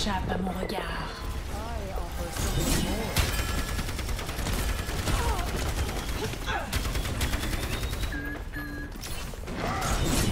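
Gunfire in Overwatch 2 crackles in rapid bursts amid a busy, loud mix of game effects and mechanical clatter, with someone talking over much of it.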